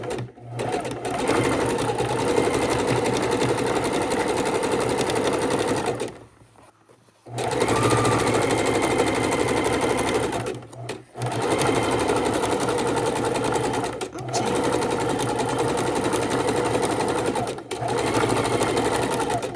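A sewing machine stitches a raw edge appliqué heart onto a scrappy quilted table runner, whirring loudly and steadily in long runs, with brief pauses where the needle stops to pivot.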